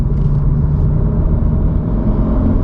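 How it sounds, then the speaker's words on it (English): Engine induction noise from a 2022 eleventh-generation Honda Civic Si while driving, heard from inside the cabin as a steady, loud low rumble and drone with no talking over it. "I love that little induction noise."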